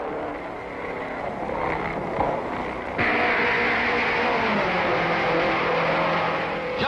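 Race cars roaring around the track at the 1954 Indianapolis 500, a loud continuous engine drone that swells noticeably partway through as the cars pass close.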